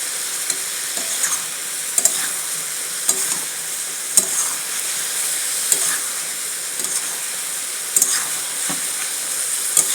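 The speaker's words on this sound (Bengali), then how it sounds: "মশলার সাথে সবজিটা একদম কষে যাবে" Vegetables and ground spices with salt sautéing in a pan for a home vegetarian lunch, a steady close sizzle and hiss with soft stirring scrapes and occasional spoon clicks throughout, no talking.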